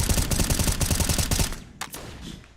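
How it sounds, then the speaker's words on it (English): Wall-bang gunfire in Counter-Strike: Global Offensive, a loud rapid automatic burst lasting about a second and a half, then a single isolated shot as the firing stops. "A nice attempt off the wall bang. Spam through the wall."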